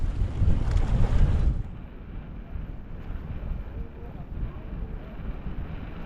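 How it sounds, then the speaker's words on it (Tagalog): Strong sea wind buffets the microphone near a small island off Palawan, a loud roaring gust at first that then settles into steadier blustery noise with lapping water underneath. "Malakas ang simoy na hangin dito."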